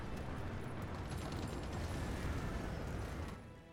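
A bomb explosion in the strategy game Hearts of Iron 4: a sustained, rumbling blast of dense noise that holds steady for a few seconds before tapering off, heard alone and fairly quiet.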